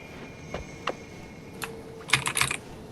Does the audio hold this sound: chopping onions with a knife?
no